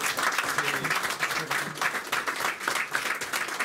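An audience at a cultural arts gathering claps vigorously in a dense, continuous burst, close and loud, with individual hand claps rippling through the steady wash of applause.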